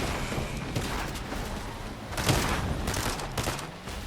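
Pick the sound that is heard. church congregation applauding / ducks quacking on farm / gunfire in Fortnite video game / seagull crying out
gunfire in Fortnite video game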